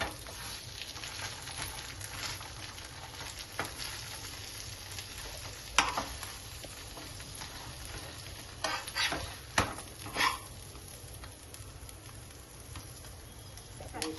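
Frankie roll roasting on a hot pan, a soft steady sizzle with occasional scraping and clatter of a spatula, fairly faint and continuous.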